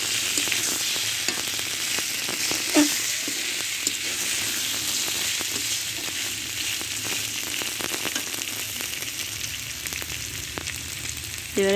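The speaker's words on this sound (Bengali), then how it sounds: "মশলাটা আমার কষানো হয়ে গেছে, তেলটা মশলার উপরে চলে এসেছে।" Masala for a soybean and pointed gourd dish fries in oil with a loud, continuous, close sizzle and faint spattering throughout, without any talk.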